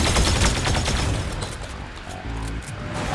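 Sustained gunfire in the video game Fortnite, dense rapid shots rattling loudly at the start and thinning out, with a low rumbling blast layer underneath toward the end.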